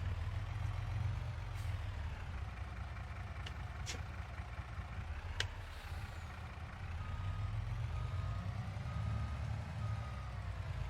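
A Mack truck backs up in a farming video game, sounding steady repeating reversing beeps over a low idling diesel rumble, with occasional short clicks and no talking.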